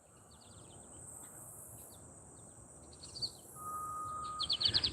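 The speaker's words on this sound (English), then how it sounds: "And just listen to the birds chirp." Birds chirp outdoors beside a riparian area along a walking route, short bright calls scattered over steady ambient noise, with a clearer burst of rapid chirps near the end.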